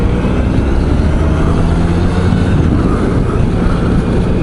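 A Honda ST1300 touring motorcycle engine runs steadily and loudly up close, a continuous low drone mixed with wind rush as the bike rides along.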